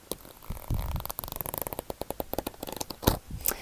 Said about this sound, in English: I'm just going to be flipping through the pages of my sketchbook, like so, just with paper sounds